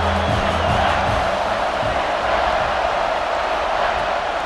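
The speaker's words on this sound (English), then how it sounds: "This crowd knows when to bring it." A stadium crowd in the EA Sports College Football 26 video game roars as one steady, loud wash of cheering, holding constant throughout without any clear peaks or speech.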